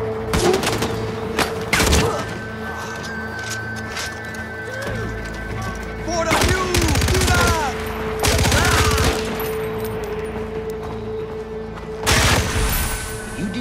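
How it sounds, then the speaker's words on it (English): The Driller gun in the video game Far Cry 4 fires in several bursts of rapid shots over an ongoing mix of game sounds, with horse whinnies and a voice heard at times. "That's the driller. One of four guns that you get in the Hurk Deluxe Pack. And drills bullets into your enemies."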